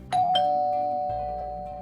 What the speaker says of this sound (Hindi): तभी घर का डोरबेल बजा।